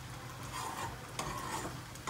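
Chana dal being stirred in a kadhai, giving a soft, continuous scraping and faint sizzle with a few louder strokes, close and fairly quiet.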